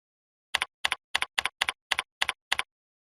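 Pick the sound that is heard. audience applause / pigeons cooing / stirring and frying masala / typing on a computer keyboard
typing on a computer keyboard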